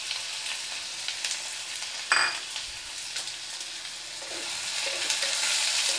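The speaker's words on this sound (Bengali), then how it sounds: "এইটাকে আমি গ্যাস কমিয়ে কমিয়ে এটা ভাজব, গ্যাসটা কমনেই আছে। পেঁয়াজটা ভেজে নিই" Chopped onions fry in a pan over a low gas flame, a steady, fairly loud sizzling hiss that continues throughout, broken once by a short clatter and a few light scrapes.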